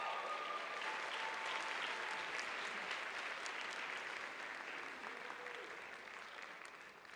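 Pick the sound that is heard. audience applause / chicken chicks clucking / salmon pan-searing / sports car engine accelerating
audience applause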